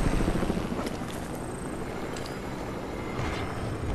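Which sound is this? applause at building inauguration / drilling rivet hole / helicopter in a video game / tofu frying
helicopter in a video game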